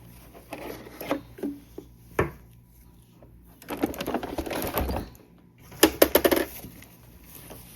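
Excess fabric is trimmed off a quilt blanket with scissors in bursts of crisp snipping and rustling cloth, with quiet pauses between the clusters of cuts.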